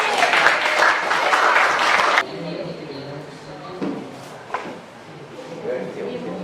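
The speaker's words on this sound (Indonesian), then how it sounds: "tepuk tangan buat kelompok Giovanni" Students in a classroom clap for a presenting group, a loud burst of dense applause that cuts off abruptly after about two seconds, followed by quieter room sounds and voices.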